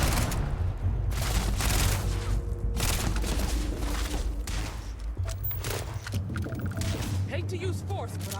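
Rapid gunfire in the Starfield video game, repeated loud shots and bursts crackling across the whole stretch, with a person talking over the fighting.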